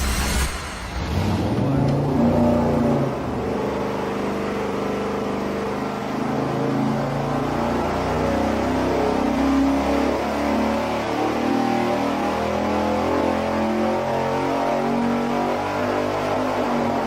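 A bone-stock Mopar 440 Six Pack V8 with only a camshaft change roars under load on a dyno, a loud sustained rising engine pull lasting the whole stretch, with voices faintly underneath.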